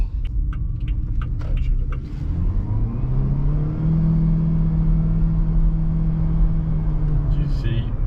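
A 2023 Haval Jolion 1.5 hybrid moves along on its electric motor, giving a low, smooth in-cabin rumble and a rising whir with no gear-change breaks, while people talk over it early on.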